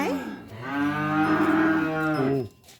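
A cow gives one long, loud, close moo lasting over two seconds while calving on a farm, with no talking.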